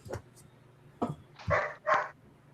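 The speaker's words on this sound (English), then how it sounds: "Whose dog is that?" A dog barks several times nearby, with short sharp yips and two fuller barks in quick succession over a quiet background.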